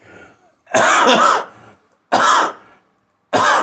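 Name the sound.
coughing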